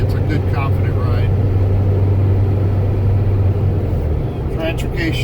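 A 1993 Ford E350 Quigley 4x4 ambulance with a 7.3L diesel cruising on the road, a steady low engine drone and road rumble heard from inside the cab, with someone talking over it.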